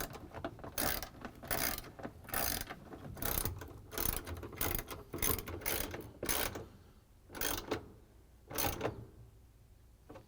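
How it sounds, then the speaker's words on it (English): Socket ratchet with a 3/8-inch socket and extension driving in bolts on a GE washing machine drain pump, giving bursts of rapid clicking separated by short pauses, close up with no talking. "we're going to use the 3/8" socket with the ratchet and the extension to put in the bolts"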